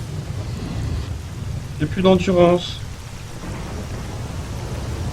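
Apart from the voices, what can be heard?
thunderstorm in video game S.T.A.L.K.E.R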